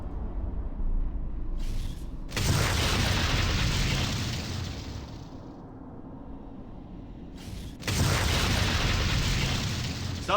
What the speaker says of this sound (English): Something is shooting at me